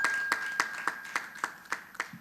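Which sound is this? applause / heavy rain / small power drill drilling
applause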